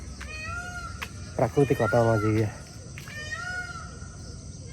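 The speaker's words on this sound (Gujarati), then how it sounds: "છે ને સંભળાય ને મોર" A peacock calls loudly in quiet countryside near the Ambika river, a run of sharp, wailing cries rising over soft rural ambience while a person talks nearby.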